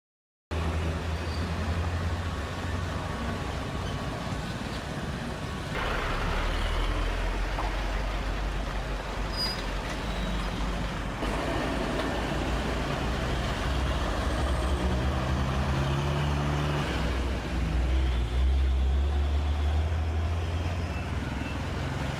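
A truck travelling a dangerous road makes a constant heavy engine rumble over more than twenty seconds, with a rising growl and faint mechanical clatter near the end and no voices.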